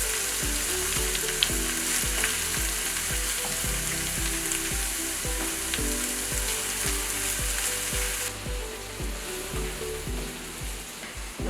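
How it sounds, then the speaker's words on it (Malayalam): Chopped tomato, ginger, onion and garlic fry in oil for a beef dish, giving a loud, continuous sizzle with regular rhythmic stirring scrapes throughout; the hiss drops off slightly toward the end. "ഈ തക്കാളി, ഇഞ്ചി, സവാള, വെളുത്തുള്ളി എല്ലാം കൂടെ ഈ എണ്ണയ്ക്കകത്ത് കിടന്ന് നല്ലപോലെ വഴന്നെങ്കിൽ"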